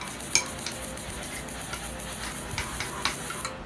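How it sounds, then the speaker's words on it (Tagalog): Kani salad being stirred in a bowl, soft scraping and clinking of a utensil against the bowl with small irregular taps, close and fairly quiet. "Mix lang ulit tayo"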